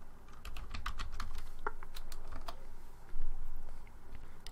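Rapid typing on a computer keyboard, a quick run of crisp, close key clicks at an even pace, alone with no talk.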